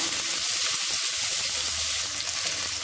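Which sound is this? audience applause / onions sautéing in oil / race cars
onions sautéing in oil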